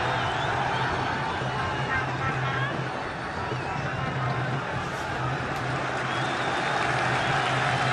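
Stadium crowd at a Sudan vs Ghana football match applauds and murmurs in a steady wash of noise, with a commentator talking over it throughout.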